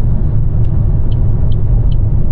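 A camper van rolls along a smooth, even road on a trip from Barcelona toward France, its cabin filled with a loud, steady low rumble of engine and tyres, alone, with faint periodic ticks.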